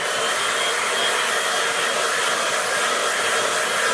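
A hair dryer blows steadily and close on watercolour paint, a continuous even whoosh with no other sounds.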